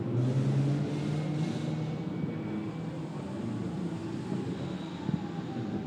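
A Lamborghini Super Trofeo race car brakes into the chicane at Spa during a 2021 Super Trofeo Europe race. A steady, fairly distant engine drone shifts downward as the car slows, with no one talking.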